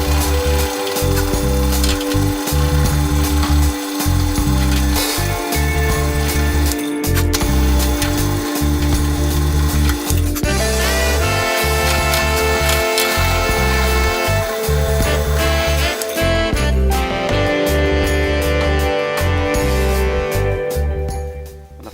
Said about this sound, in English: And now I'm drilling the holes for the flange screws.